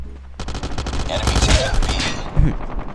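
A player shoots down a UAV in Call of Duty Mobile with a rapid, sustained automatic-weapon burst of loud, evenly spaced shots, and a voice speaks briefly under the fire.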